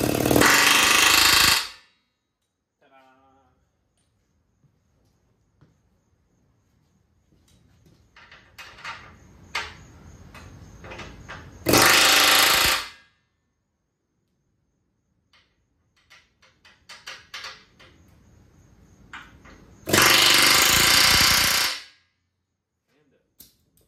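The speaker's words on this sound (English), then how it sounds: "A very flat or punch style bit for my air hammer. And just a couple little rap-a-tap-taps." An air hammer fitted with a flat punch-style bit drives a stud into a 1968 Firebird/Camaro subframe, in three loud short bursts of rapid rattling spaced several seconds apart, with quieter clinks and handling noises between them.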